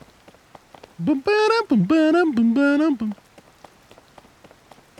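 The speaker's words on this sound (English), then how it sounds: "the sound of the rain." Rain falls in the video game Zelda: Tears of the Kingdom, a soft, steady patter throughout, while a voice lets out a drawn-out exclamation over it for about two seconds.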